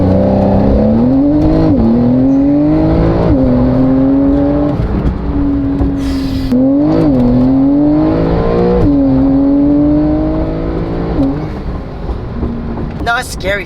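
A Dodge Ram TRX pickup launching and accelerating hard, its engine climbing loudly through repeated gear changes with rising and falling pitch, recorded from inside the cab while occupants talk over it.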